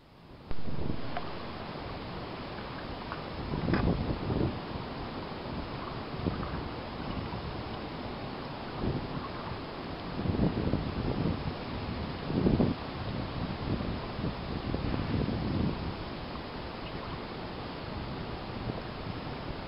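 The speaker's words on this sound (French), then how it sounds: "depuis ce matin, que du vent aussi" Strong north wind buffets a microphone outdoors beside the water on a fishing outing, a continuous loud roar with gusty surges and no talking.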